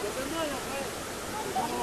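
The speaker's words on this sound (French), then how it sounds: "Voilà, une petite cascade ici." A small waterfall at the Cascade d'Arpenaz gives a steady, soft broadband rush of falling water, faint and continuous with no other distinct sounds.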